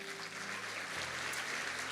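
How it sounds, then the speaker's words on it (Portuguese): Church congregation applause during a sermon, a steady, fairly faint patter of many hands clapping together, with a low background hum under it and no speech. "Você pode dar um aplauso ao Senhor?"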